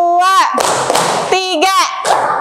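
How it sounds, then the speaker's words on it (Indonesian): Children in a classroom clap their hands in counted sets, sharp broadband slaps in short groups, alternating with a voice chanting the counts in rhythm. "Coba tepuk 1, tepuk 1, tepuk 2, tepuk 3."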